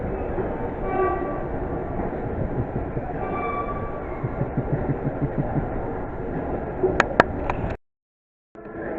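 A Great Western Railway train arrives at Reading station with a steady rolling rumble and drawn-out mechanical tones, then several short sharp horn-like blasts near the end before the sound cuts off abruptly.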